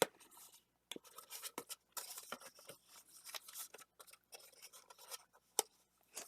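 Scissors snipping through paper or card while a box is being made, a quick close series of crisp cuts and scrapes broken by short quiet pauses, no voices present.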